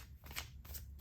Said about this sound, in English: let's just give this one good shuffle